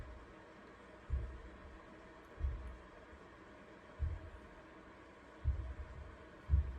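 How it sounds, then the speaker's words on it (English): A Bomaker Cinema 500 MAX projector's cooling fan whirs quietly and steadily, broken by soft low thumps that recur about every second and a half. "Now just the fan noise, as you can hear it right now"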